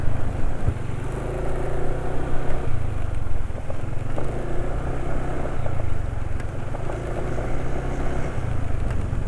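Motorcycle engine idling and revving on Wealthy Vigorous 10W40 oil, a close, steady rumble with uneven rises and falls in RPM throughout.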